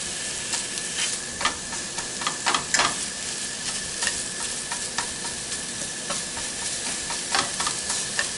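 Food browning in a hot pan for homemade sausage gravy, a steady bright sizzle and hiss with occasional crackles and scraping stirs, close and continuous with no talk.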